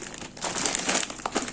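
A plastic bag of small ring pasta is crinkled and handled up close, giving irregular rustling crackles that swell and fade over about a second and a half, with no voice.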